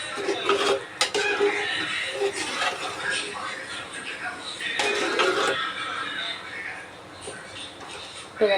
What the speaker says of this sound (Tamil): இதை வந்து நல்லா அப்படி கலந்துக்கிட்டு போவோம்